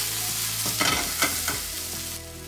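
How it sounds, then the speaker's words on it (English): Chicken and thick spring onion pieces sizzle steadily in a pan for a yakitori rice bowl, with a few louder scraping stirs breaking through the continuous frying hiss. "Fry for 30 seconds."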